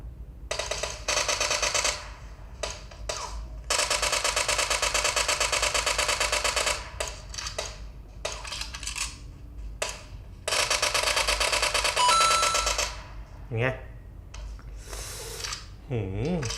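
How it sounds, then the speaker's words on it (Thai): Rapid automatic gunfire during a duel in the mobile battle royale game PUBG, played on an OPPO A53 phone, with long continuous bursts separated by short pauses and talk in between. "จังหวะดวลปืน มีการดวลกันเกิดขึ้นนะฮะ"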